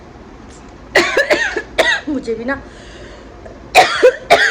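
Several sharp coughs come in quick bursts, close and loud, with a short spoken phrase between them.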